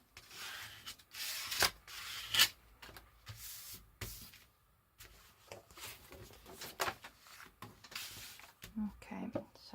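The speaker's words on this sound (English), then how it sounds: "Just burnish that down" Paper on a handmade winter journal cover is burnished down with repeated short, soft rubbing strokes, close and fairly quiet, in irregular bursts separated by brief pauses, with no talking.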